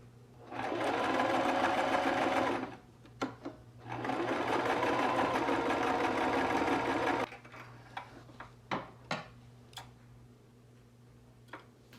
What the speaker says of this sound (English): we're going to sew along this right here, leaving a good amount of seam allowance